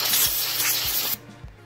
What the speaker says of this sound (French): Je vais mettre un coup de bombe. Vous allez voir, ça va faire comme de la neige.